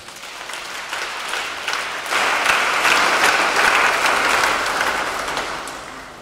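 A church congregation bursts into applause during a Sunday service, a dense, steady clapping that swells after about two seconds and then tapers gently toward the end.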